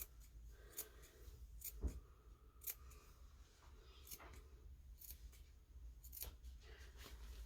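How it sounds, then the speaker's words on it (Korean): Scissors snip small notches into the curved side seam of a padded long coat, a run of sharp, crisp cuts at an irregular pace, close and alone with no talking. "곡선 부위이기 때문에 여기도 가위밥을 조금 줘서"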